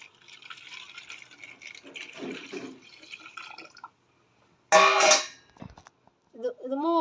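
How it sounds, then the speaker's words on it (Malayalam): Cold rice water splashing and trickling into a container for a few seconds, followed by a pause, then a louder burst of pouring and a short voice. "അതിൽ കുറച്ച് തണുത്ത കഞ്ഞിവെള്ളം ഒഴിക്കുക"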